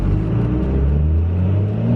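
Dodge Cummins diesel truck with a South Bend dual disc clutch pulling uphill in second gear, a low steady engine rumble heard from the cab with a slight rise in pitch.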